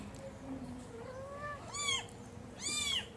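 A mother cat meows twice in quick succession, two drawn-out, rising-and-falling calls close by at night, with a faint lower mew before them and no talking.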